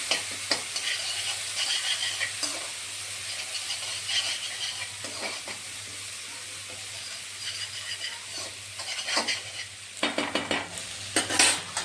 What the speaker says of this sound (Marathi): मिरची आणि लसूणचं पेस्ट ते मिक्स करून घ्यायचं आहे आपल्याला. फ्राय करून घ्यायचं थोडंसं.